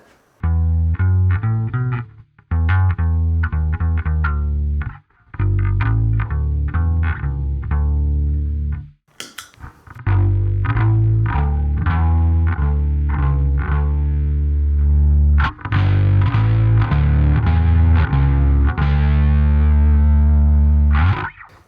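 Bass guitar played through a RecHead cassette recorder pedal, saturated and chorus-tinged, with plucked phrases and sustained notes in several separate runs broken by short gaps.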